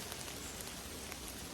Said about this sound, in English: Even if it's raining like it is now